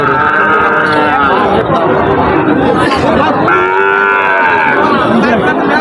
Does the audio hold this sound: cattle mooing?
yes